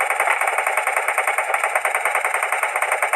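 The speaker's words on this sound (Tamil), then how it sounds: "ஒரு சுடுற சவுண்டு கேட்குது." Rapid automatic gunfire from the mobile battle game Free Fire during a ranked match, a steady dense rattle of shots running without a break for the whole stretch, loud and close.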